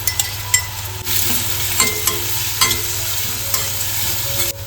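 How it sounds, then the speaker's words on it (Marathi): Chopped onions and curry leaves fry and sizzle in a pan, a steady crackling hiss broken by several scraping stirs of a spatula, close and moderately loud with no voices. "तिकडे ना आपला कांदा मस्त परतवून घेतलेला आहे"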